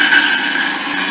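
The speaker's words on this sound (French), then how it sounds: "Maintenant, je vais mixer les patates." A kitchen blender whirs loudly and continuously while pureeing sweet potatoes without added water, a steady high-pitched motor whine that runs alone for about a second.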